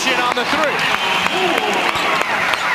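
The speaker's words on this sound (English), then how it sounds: "Shoni Schimmel's giving the crowd a lot to cheer about here in this first All-Star game for the rookie." Spectators at a WNBA All-Star basketball game cheer and clap in a steady crowd roar, with an announcer talking over the noise throughout.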